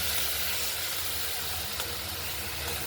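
Ground spice paste mixed with turmeric frying in a pan for a spicy paneer and potato curry, a soft, continuous sizzle under low background rumble, no one speaking.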